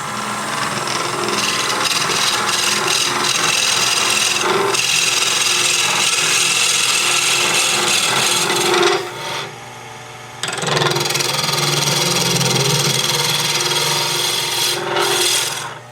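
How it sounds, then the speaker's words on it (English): Sandpaper rasps steadily against the spinning taper of a wooden Queen Anne side table leg on a lathe, a loud continuous rubbing that briefly drops out near the middle before resuming. "you want to go ahead and sand the taper part before moving it back"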